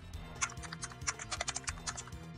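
Fingers tap out a password on a computer keyboard, a quiet irregular run of crisp key clicks with short pauses, close and alone.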